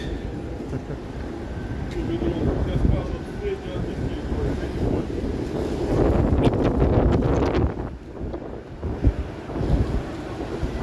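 Gusty wind buffets the microphone on a downtown Toronto street in the evening, a continuous low roar that swells strongly midway before easing, with no other clear sounds standing out.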